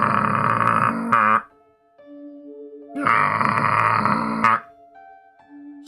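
A voice mimics a friend's loud snoring, rendered as two long, harsh, rasping grunts, each about a second and a half, with a quieter pause between them.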